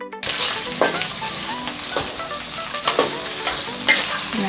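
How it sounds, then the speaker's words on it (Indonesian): Anchovies and green chilies frying in a pan, a steady loud sizzle with repeated scraping stir strokes throughout, no talking. "Nah, kita goreng dulu sebentar, yang penting terinya matang."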